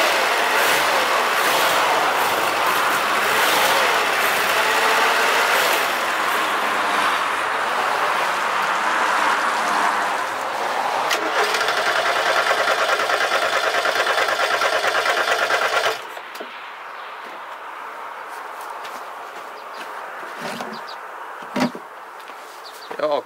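A Ford Fiesta Mk3 engine runs with a steady, buzzy drone until the fuel runs out and it cuts off about two-thirds through, leaving near-quiet with a few faint clanks.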